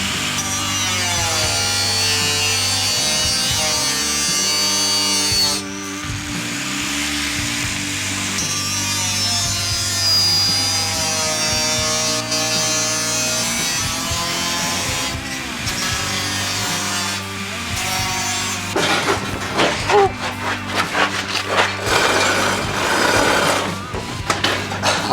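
A power drill bores a pilot hole before cutting in a workshop where a wood stove is being installed. It whines loudly and steadily with shifting pitch, then gives way to rattling and knocking handling noises.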